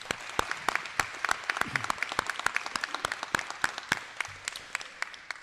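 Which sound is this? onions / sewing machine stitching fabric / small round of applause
small round of applause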